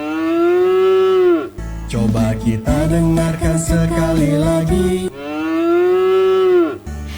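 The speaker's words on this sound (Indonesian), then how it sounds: "Sekali itu suara sapi." A cow gives two long, loud lowing moos, one at the start and one at the end, with a person talking between them.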